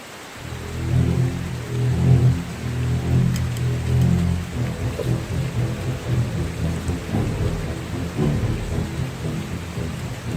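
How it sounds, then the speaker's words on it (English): Low rolling thunder rumbles continuously beneath a steady wash of rain at a campsite on the Old Loggers Path, Pennsylvania, loud and enveloping with no voices. "it's a good thing I got packed up and ready to go. It's starting to rain."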